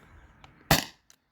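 A Beeman BP50 CO2 air pistol fires a nylon ball with a single sharp, close pop, followed by a brief faint click.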